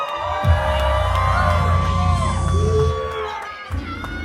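Crowd at a live art battle competition in New York cheering and whooping before a painting round, a loud sustained roar with shouts rising above it, briefly dipping near the end.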